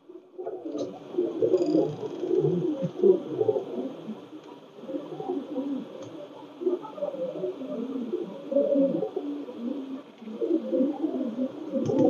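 Steady, throaty cooing from a male Saudi Bilal line teddy pigeon, a Pakistani teddy breed, rolls on near and moderately loud in repeated phrases with brief dips between them.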